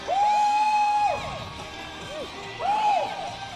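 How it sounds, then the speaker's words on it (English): Crowd at a high school football game in Auburn, California, shouting and cheering loudly in bursts, with a steady crowd roar, a whistle-like tone and someone talking over it. "the crowd's fired up tonight"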